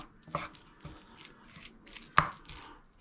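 A spatula scrapes and taps in a dry pan as chicken mince is broken up for larb, giving a few sharp knocks against a soft, quiet sizzle.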